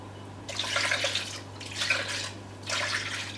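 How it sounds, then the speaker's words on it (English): Water poured into a cooking pot of seasoned beef in a home kitchen, heard as three splashing pours separated by short pauses over a low steady hum, fairly close with no talking. "I'm just going to add water."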